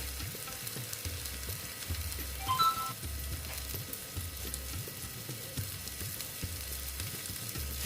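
Spiced eggplant cooking down in a pan for begun bahar, a constant frying hiss over a low rhythmic pulsing rumble, with a brief scrape near the middle and no talking.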